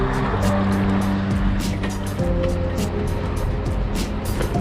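Cars queue at the Azerbaijan border crossing, waiting to be searched and x-rayed, their engines idling in a steady, loud, close low rumble with faint clicks and knocks over it.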